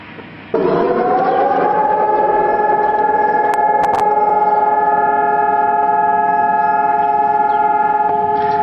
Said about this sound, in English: Sirens rang out nationwide during the commemoration